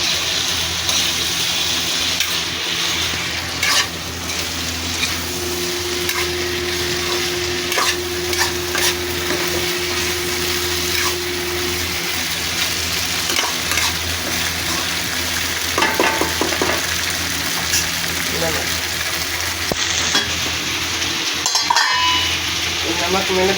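Masala and small-cut potato pieces frying together in a pan, a steady broadband sizzle running throughout with scattered scraping and stirring clatters, loudest near the end; a faint hum sits underneath.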